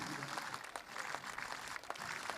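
An audience at a live traditional event in Carbonia claps continuously, a dense, steady wash of many hands with slight swells, fairly close, with no distinct voices over it.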